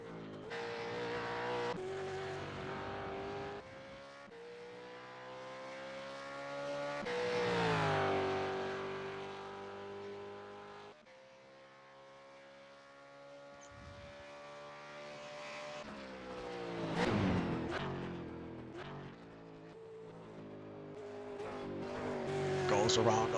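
A race car's engine from iRacing laps Sebring International Raceway in an ESL Supercars session, rising and falling through gear changes and corners, with a commentator talking over it.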